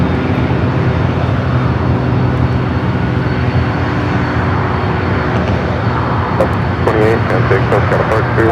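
Airliner jet engines roar steadily at LAX airport, a broad continuous rumble with a distant voice coming through faintly near the end.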